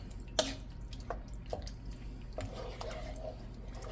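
Okra stew is stirred in a pot, giving soft, wet squishing and dripping sounds, quiet and irregular, over a low background hum.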